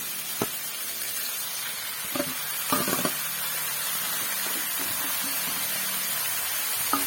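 Mithi shak greens sizzling in a hot pan: a steady hiss of frying throughout, with a few knocks and clinks of utensils, close and fairly loud, no talk.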